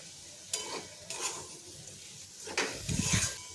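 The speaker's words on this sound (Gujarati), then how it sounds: "ઉપરથી થોડા આપણે લીલા ધાણા નાખીશું અને બધું સારી રીતે મિક્સ કરી લઈશું" A spoon stirring cooked kantola and onion sabzi with green coriander in a pan: a few soft scraping strokes and light clinks, quiet and close, with a faint sizzle.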